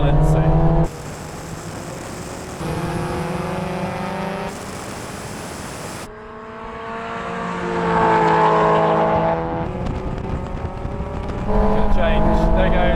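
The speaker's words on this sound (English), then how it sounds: "We're going to have another rolling race, this time from 50 miles an hour in third gear." Two supercharged Mazda Roadsters, an NC and an NB, accelerate hard in third gear from 50 mph in a rolling drag race, engines droning and rising in pitch with abrupt cuts between in-car views.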